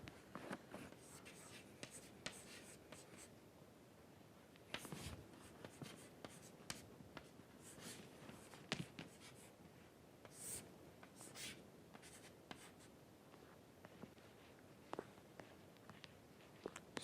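Quiet writing on a board during a lecture on solidification kinetics: continuous scratchy strokes with short taps and pauses, faint and distant in a room, with no talk over it.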